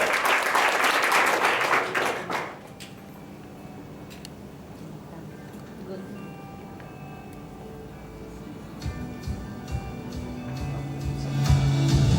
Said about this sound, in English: can we give yourself a round of applause for the second video?